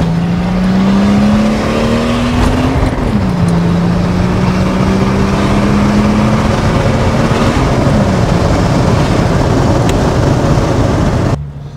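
Turbocharged BMW 525 TDS E34 diesel heard from inside while driving, a loud continuous engine drone whose pitch climbs steadily, drops at gear changes and climbs again, then cuts off abruptly at the end.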